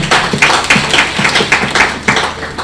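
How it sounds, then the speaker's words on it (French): Audience at a church sermon clapping for themselves, a loud, steady rhythm of group claps with a regular beat throughout. "Applaudissez alors pour vous-même."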